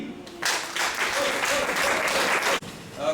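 An audience at a coaching leadership centre event gives a short round of applause as the presenter is called up, with a voice speaking over the clapping before it cuts off abruptly.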